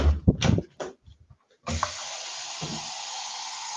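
Water runs from a tap to fill a container, a steady hissing stream that starts suddenly after a few brief knocks and clatters and then holds at an even level.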